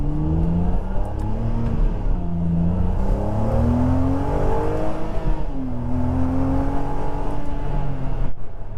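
A Ferrari 612 engine pulls steadily under light throttle, its pitch sweeping upward through the gears, a continuous loud drone inside the cabin.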